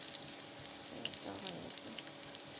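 Garlic goes into a pan of browned onion and sizzles and crackles softly and steadily, with a faint stirring scrape midway.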